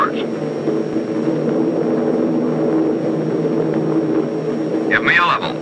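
A US Air Force bomber engine drones steadily and loudly during a bomb run at bombing altitude over a nuclear test site. The engine's constant propeller hum runs throughout, with a brief voice near the end.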